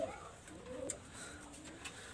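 Pakistani high flyer pigeon, a golden teddy type, cooing softly in a few faint, low murmuring phrases against quiet background noise, with no one talking.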